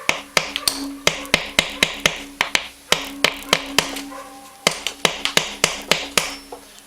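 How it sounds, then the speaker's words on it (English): A steady series of sharp metallic taps, a hammer striking a screwdriver on a Rancher 420 engine cover about twice a second, close and loud with a short pause midway. "stick a screwdriver on there, tap it with a hammer"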